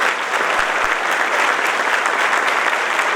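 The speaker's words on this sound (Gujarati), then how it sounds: "અહીંયા આવી જોરદાર તાળીઓ સાથે" A seminar audience claps loudly and continuously, a dense close-up burst of applause filling the room with no speech over it.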